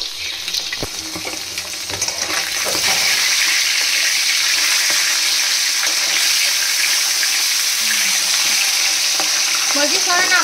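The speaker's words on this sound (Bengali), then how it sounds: "কপিগুলো ভাজছি" Cauliflower frying in a pan makes a loud, steady sizzle with scraping stirs, continuous for the whole stretch with no talk.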